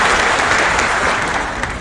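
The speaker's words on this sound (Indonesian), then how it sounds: "Tepuk tangan kepada Pak Ketua DPRD." Sustained applause from an audience at a social aid handover ceremony in Buleleng, honoring the DPRD chairman; dense, steady clapping that fills the room and tapers slightly toward the end.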